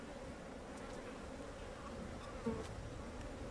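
Dense honeybees hum in a steady, soft, close buzz around an open two-storey hive, a continuous low drone with no voices.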